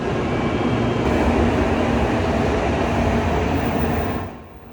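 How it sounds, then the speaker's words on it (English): A Sanyo Shinkansen bullet train pulls into a station in Osaka with a loud, steady rushing roar and a faint high whine. The roar drops away abruptly near the end. No one speaks. "Soon our train arrived and we were leaving Osaka behind."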